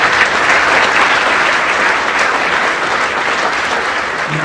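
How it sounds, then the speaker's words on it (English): Audience applauding at a workplace awards event, a steady, dense wash of clapping that stays loud and even throughout without pause. "Let's give them a round of applause"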